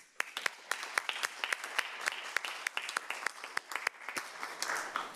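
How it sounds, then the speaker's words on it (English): An audience at the Murrieta city council meeting claps in a warm, scattered round of applause, with sharp individual claps popping over a steady patter throughout. "I'd like to give you all a round of applause"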